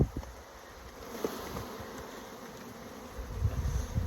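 Honeybees buzzing around an open hive during an inspection, a steady close drone with a few handling knocks and a louder rustle near the end.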